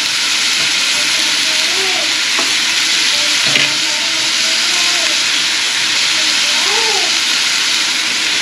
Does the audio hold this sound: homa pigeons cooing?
no